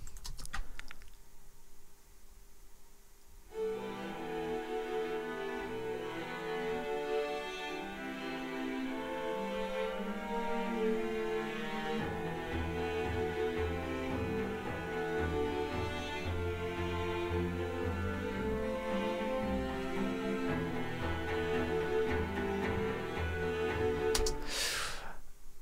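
Orchestral chamber strings play within a song mix, sustained layered tones that thicken partway through and continue steadily throughout, with no one speaking.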